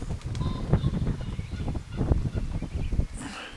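A bird calls near a headstone on a spring daffodil walk in Farndale, North York Moors: a few short, nearby honking calls over soft outdoor background noise.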